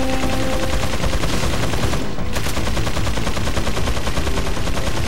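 Dense, loud gunfire from the video game Resident Evil 4 in rapid, continuous automatic bursts with no pause, close and harsh for the whole stretch.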